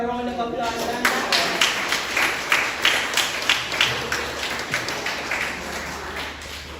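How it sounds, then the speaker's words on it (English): An audience at a Jamaica Cancer Society branch annual general meeting claps together in a steady, moderately loud round of applause that holds for several seconds, with a faint murmur of voices underneath. "I think we need a bigger round of applause than that."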